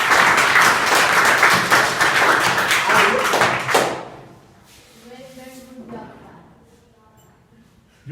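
Schoolchildren at a school in Azamgarh, Uttar Pradesh, clap together loudly and steadily for about four seconds. The applause then stops abruptly and a voice speaks over a quiet room.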